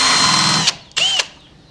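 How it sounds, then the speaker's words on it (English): Power drill pre-drilling holes in a wooden trellis edge board: a loud whining burst that stops, then a second short spin with pitch rising and falling, followed by quiet. "We are going to pre-drill 3 holes, one dead center of the edge board"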